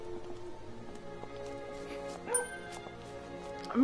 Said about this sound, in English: the dog's barking. I I don't know of what, but the dog is barking